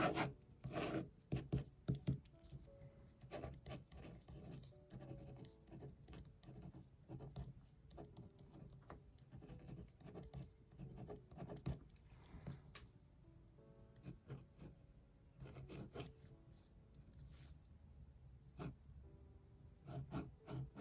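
A Mexican-market Pentel EnerGel pen scratches across paper in quick, close strokes, a dry rasping patter with brief pauses and sharper ticks throughout.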